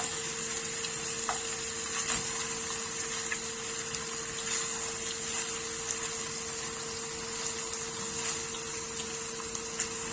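Pieces of rabbit browning in a hot pan, golden on each side, give a steady close sizzle with small pops and crackles throughout, with no talking.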